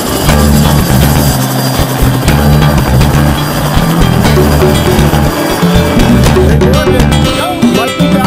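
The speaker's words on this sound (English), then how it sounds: "he comes back in for one more low approach so I could film him, and look at this takeoff" A loud, close aircraft roars steadily as it takes off after a low approach, a continuous engine drone that thins slightly near the end.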